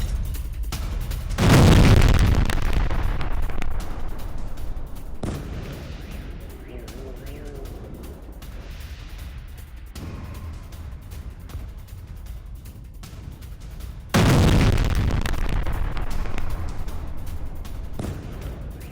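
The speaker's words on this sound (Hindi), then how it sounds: "कीव पर 6 स्कैंडर मिसाइलों से हमला किया गया है।" Explosions from a missile attack on Kyiv boom through the clip. There are two heavy, loud blasts several seconds apart, with rumbling and scattered bangs in between.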